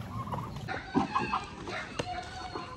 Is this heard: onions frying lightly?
no